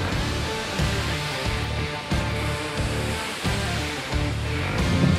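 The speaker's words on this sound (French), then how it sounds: "quand tu regardes les vagues, ça te fait un peu peur." Sea waves surge and break on the shore at Pointe d'Esny, a steady, loud wash of surf with rhythmic swells rolling in every second or so, alone without talk.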